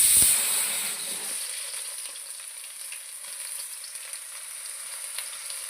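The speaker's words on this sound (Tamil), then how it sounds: "வாங்க வெங்காயத்தை ஆட் பண்ணி" Chopped onions frying in hot oil for a ginger, garlic and green chilli thalakari pepper fry, a steady close sizzle that bursts loudest at the start and then settles into an even, continuous hiss with no talk.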